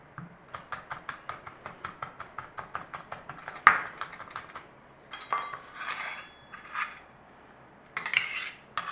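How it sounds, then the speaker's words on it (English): Garlic minced with a knife on a cutting board, a fast run of even, close chopping taps followed by sparser knocks and scraping, with no talk. "Garlic, we're mincing."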